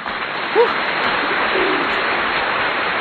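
Racing pigeons arriving home at the loft after a 102 km training flight in Santa Rosa, Nueva Ecija: a brief coo rises near the start, and soft wingbeats and steady outdoor rustle run throughout.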